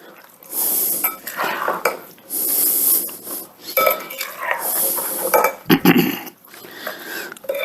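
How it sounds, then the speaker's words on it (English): A spoon scrapes and clinks around a bowl while pineapple juice and cheddar cheese are mixed for a casserole, in bursts of rubbing strokes with brief pauses. "Give that all another nice mix up."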